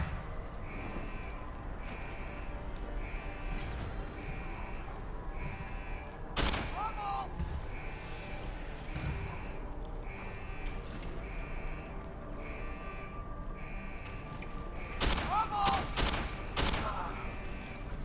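Gunfire from blind firing around cover in Deus Ex: Human Revolution on Wii U, a few sharp bursts standing out over a steady game soundtrack, the loudest cluster near the end.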